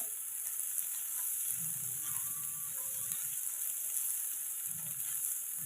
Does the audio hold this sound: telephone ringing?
no